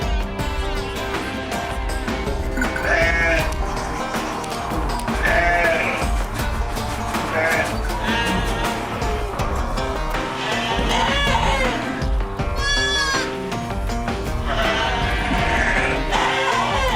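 Flock of sheep bleating on a farm in Turkey, with many loud, close, overlapping calls that continue throughout, along with faint background voices.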